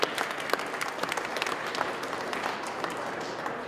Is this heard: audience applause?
yes